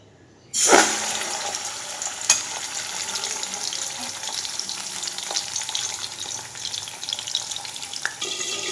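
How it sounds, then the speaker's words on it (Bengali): Fish slides into hot oil with a sudden loud burst of sizzling, which settles into a sustained, close crackling fry with small pops scattered through it. "তেলটা আমার গরম হয়ে গেছে এবার মাছগুলো আমি দিয়ে দিই"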